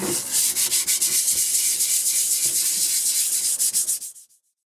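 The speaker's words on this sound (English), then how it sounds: "So here we have the 150, so this is the last rub of sandpaper" An East German military helmet is sanded by hand with 150-grit sandpaper, a loud, continuous scratchy rubbing in fast repeated strokes that stops abruptly near the end.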